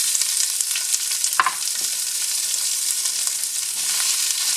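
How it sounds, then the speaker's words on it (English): Chopped onions sauté in a pot, giving a steady close hiss and sizzle with a brief stirring scrape early on. "We're going to saute the onion until it's translucent."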